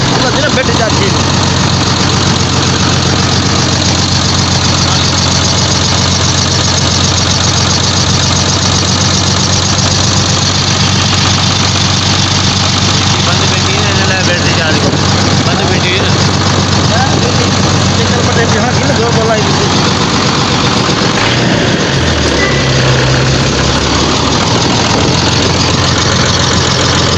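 A truck engine idles loudly and continuously in a mechanic's workshop during an engine change with a lifting chain, a dense, unbroken drone with people talking over it.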